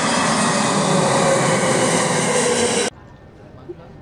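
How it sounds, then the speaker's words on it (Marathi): An airplane passes near an airport hotel in London, producing a steady, fairly loud broadband engine roar that cuts off abruptly after about three seconds into quiet room tone. "हॉटेल एअरपोर्टच्या जवळ असल्याने विमानांची सतत ये-जा होती."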